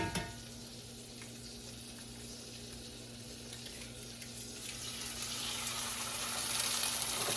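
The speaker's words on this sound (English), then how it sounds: "I'm frying eggs to put on top of Ryder and Braden's and Dusty's." Eggs frying in a pan on a home stove, a steady close sizzle with faint clatter, swelling slightly louder toward the end with no voices.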